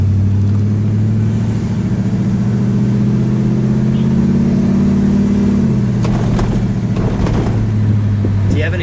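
A 1958 Plymouth Belvedere's engine hums steadily from inside the car while driving, a low droning tone that drops slightly in pitch partway through, with light rattles and road noise near the end.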